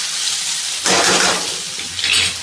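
Tomatoes sautéing in oil for a spiced potato-curd side dish, giving a close, loud sizzle that swells in two bursts as they are stirred, with no talking.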